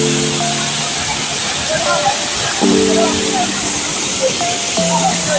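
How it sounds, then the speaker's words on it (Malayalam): Velankad waterfall rushes with a steady, broad hiss of falling water that fills the whole stretch, while people talk over it close by. "വാട്ടർഫോൾസ് ഇതാണ് വെളങ്കാട് വാട്ടർഫോൾസ്"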